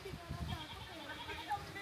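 A goat bleats faintly while crossing outdoors in Sipalay, a short wavering cry under people talking nearby.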